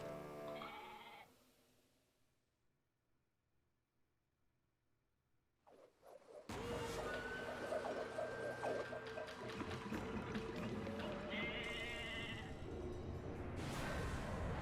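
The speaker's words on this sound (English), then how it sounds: "It's the drunk sheep." Game sheep in Okami HD let out wavering bleats, one early, then after a quiet stretch a burst of louder action sounds with more bleats mixed over busy music.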